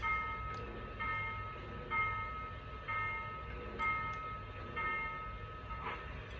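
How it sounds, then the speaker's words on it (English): A video game locomotive bell clangs in a steady, even rhythm, about once per second, fairly faint over a low mechanical hum. "Here is the bell."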